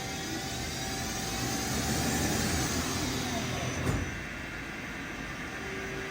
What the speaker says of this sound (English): The spindle RPMs are increasing now. It's going from 500 to 1500.